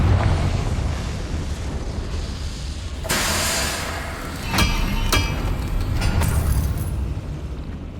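A Confringo fire spell bursts in Hogwarts Legacy: a loud, sharp blast, followed by a couple of crackling impact bursts, over a constant rumbling game backdrop.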